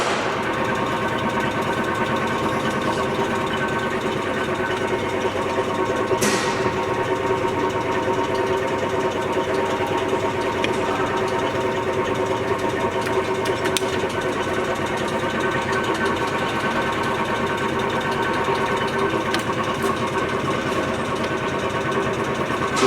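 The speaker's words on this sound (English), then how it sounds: "It's a Leblond sliding bed lathe." A Leblond sliding bed engine lathe with 16-inch swing and 36-inch gap runs steadily, giving a continuous even mechanical hum and whir with a faint knock, close by and alone without voices.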